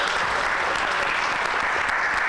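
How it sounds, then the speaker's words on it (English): An audience at a community dialogue event claps in steady, dense applause that holds loud and even throughout, with no break or tail-off. "Can we give her another round of applause?"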